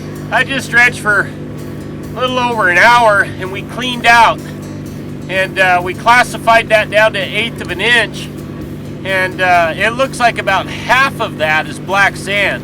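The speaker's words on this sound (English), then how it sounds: "You probably can hear that motor running in the background." A gold dredge motor runs steadily at a gravel pit, a constant low engine hum beneath someone talking close by throughout.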